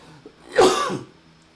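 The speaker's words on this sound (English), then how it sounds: "He's coughing in my face." A single close cough or throat-clearing burst from a man, loud and brief, rising sharply then trailing off, with quiet room tone before and after.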